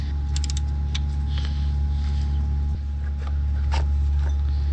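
Mechanical creaks and ratcheting clicks as 10mm bolts are backed out of the timing cover on a Mazda Protege, close and steady over a constant low hum, with a few sharp metallic ticks and no talk.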